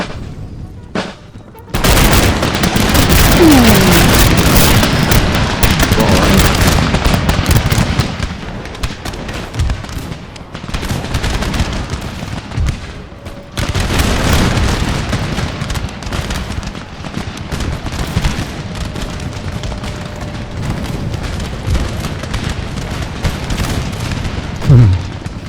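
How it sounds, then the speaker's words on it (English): Dense volleys of musket gunfire crackle and boom across an Empire: Total War battle, with sustained rolling fusillades and repeated bursts of shots, loud and continuous throughout, with faint voices in places. "Point blank volley fire."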